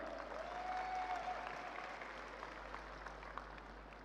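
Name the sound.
audience applause for dancers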